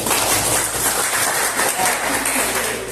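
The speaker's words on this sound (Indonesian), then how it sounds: "Oke, tepuk tangan dulu dong." Classroom audience applauding during a chemistry lesson, a steady wash of many hands clapping close by for the full stretch with no break.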